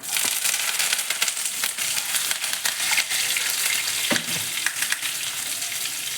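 Mustard seeds, cumin, curry leaves and three green chillies sizzle in hot oil for a foxtail millet pongal: a dense, steady crackle with sharp pops close up, no voices.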